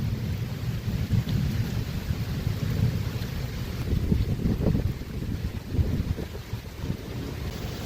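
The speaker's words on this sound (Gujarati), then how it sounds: "બહુ ઝડપથી પવન ઉડવાનું એટલે પવન ફૂલ છે" Strong wind blowing hard through trees during an unseasonal summer storm with rain in rural Gujarat, a loud continuous roar with gusts and buffeting, no voices.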